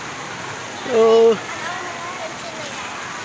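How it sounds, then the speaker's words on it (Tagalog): A constant roar of heavy rain fills the background while someone speaks briefly, his voice rising clearly above the downpour. "malakas ang ulan eh"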